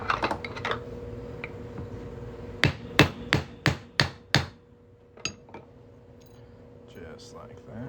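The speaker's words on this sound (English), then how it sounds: "We're just going to hammer that right on through." Six sharp, ringing hammer blows, spaced about a third of a second apart, drive a 1/2 inch punch through the center of a silver proof Nebraska quarter held in a centering jig. A few lighter taps and clinks come before and after.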